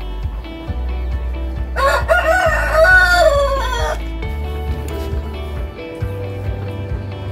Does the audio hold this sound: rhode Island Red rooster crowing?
yes